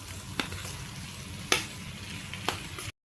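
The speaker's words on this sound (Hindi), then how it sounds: "अब डालेंगे इसमें उबला हुआ आलू।" Boiled potatoes tumble into spiced masala frying in a pan, raising a steady close sizzle broken by a few sharp clinks of stirring, with no voices.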